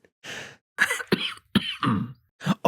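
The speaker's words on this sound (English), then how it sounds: "Oh, his coughing. That's a serious problem." A man coughs several times in a harsh, hacking series, close and loud with short gaps between bursts, from a scene in the TV drama Breaking Bad.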